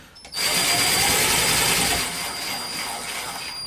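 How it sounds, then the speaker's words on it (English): A power drill driving a screw whirs up sharply and runs at high speed for a few seconds, then eases to a slightly lower steady drone, close by. "get it close with the drill and maybe finish it up by hand."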